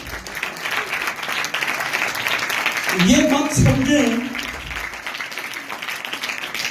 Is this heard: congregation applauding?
yes